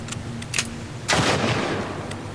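A gun fires in The Last of Us Part I, several sharp cracks followed by one louder close blast with a short decaying tail, each shot standing alone.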